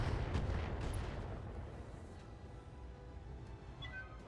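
Mech weapons fire in the video game BattleTech, a heavy low booming blast that rumbles and slowly fades, followed by softer mechanical sounds and faint high tones.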